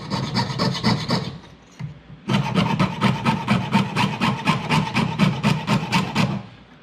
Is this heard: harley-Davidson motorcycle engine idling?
no